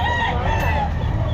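Game fowl rooster crowing amid the bustle of a pet market in Baliwag, a short crow heard over dense background crowd chatter and other birds.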